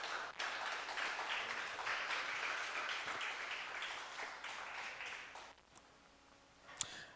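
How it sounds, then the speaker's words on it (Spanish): A Spanish-speaking church congregation applauds during a worship service. The quiet, steady clapping lasts about five seconds, then fades into near silence with a single faint tick near the end. "dele un aplauso, por favor"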